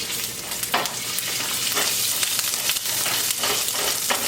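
Ginger sizzles in hot oil while frying toward golden brown for Mongolian beef, a loud continuous close hiss with sharp crackles and spatters throughout, no voices.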